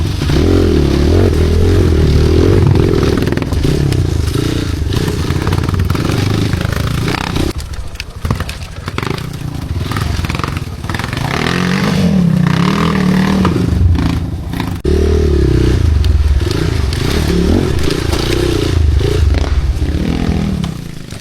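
A motorcycle engine drones steadily close by, with rattling and scraping road noise and brief dips where the throttle eases before it roars again.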